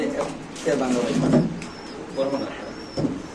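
Fancy pigeons coo in soft, throaty bursts at a pigeon farm. The calls come in several rounds, with brief chirpy notes between them and a voice faintly present underneath.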